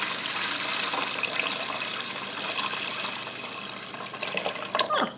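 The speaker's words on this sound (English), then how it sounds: "I'm going to cover them with water." Water pours steadily into a pot of dried pinto beans, a continuous close splashing gush that holds at an even level for several seconds before a slight surge near the end.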